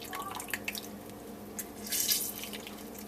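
Water splashes and trickles into a bowl of chicken broth, milk and lemon juice for an Italian sauce, a short pour with light drips, close and clear, with no talking over it.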